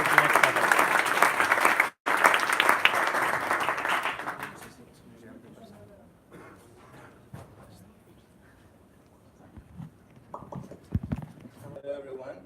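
A demo day audience gives a loud burst of applause that runs for about four seconds after a brief break. The clapping then fades, leaving quieter room sounds and some talk.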